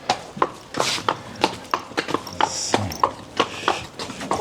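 Horses moving about at feeding time, hooves clip-clopping in an irregular walking rhythm on a hard surface, close and fairly clear with no talking.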